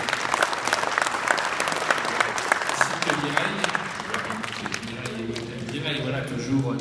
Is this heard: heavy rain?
no